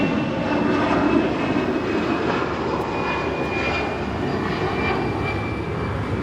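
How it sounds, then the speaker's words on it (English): Delta Airbus A319 jet taking off from Los Angeles International Airport, bound for Dallas Love Field: a steady, loud engine roar that holds without a break, with a light breeze in the background. "Now departing to Dallas Love Field. It's Delta 2824 on an A319."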